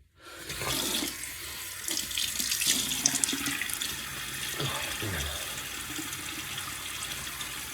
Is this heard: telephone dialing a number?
no